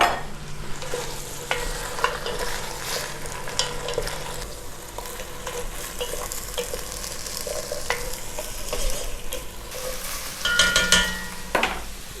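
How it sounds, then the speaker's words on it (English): Carrots and onions fry in a pan, crackling and sizzling steadily, with a spoon scraping and stirring in bursts and louder clattery stirs near the end, no talk. "While the carrots and onions are frying and caramelizing"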